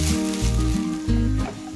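Soaked, rinsed rice toasting in a hot pan for perde pilaf, with a steady loud sizzle that surges in heavy pulses as the grains are stirred, and no talking.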